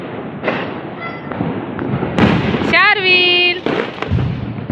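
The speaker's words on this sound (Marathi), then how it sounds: "आता आम्ही सगळे मिळून फटाके उडवणार आहेत" Diwali firecrackers burst outdoors in a scatter of pops and thumps, with a whistling, warbling rocket-like screech in the middle, while family members talk excitedly nearby.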